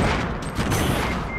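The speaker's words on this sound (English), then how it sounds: "who just threw nades behind us?" Grenade explosions in Fortnite Battle Royale form a dense, loud, continuous rumble of overlapping blasts and crackle with no clear gaps, heard without speech.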